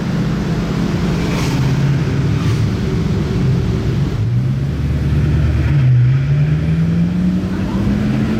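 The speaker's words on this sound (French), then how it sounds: "écoutez le bruit là, il a rétrogradé." A loud, steady Bugatti W16 engine drone with pitch sweeps as it downshifts, the tone dropping then climbing again, heard up close and continuous in Monaco.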